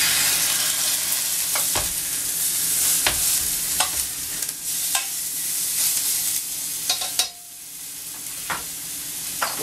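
A pork loin sears in a hot pan, giving a continuous bright sizzle with scattered sharp clicks and knocks as tongs turn the meat, then a brief dip in the hiss near the end.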